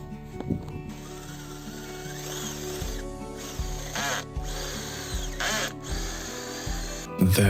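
A power drill bores holes in wooden beams so they can be bolted to the poles of a screw-foundation house frame. The motor whines steadily and loudly, with brief pauses and restarts as the bit cuts into the wood.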